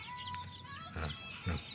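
Faint chirps and soft clucking of jungle fowl chicks being raised in a pen, with a couple of slightly louder low calls toward the end.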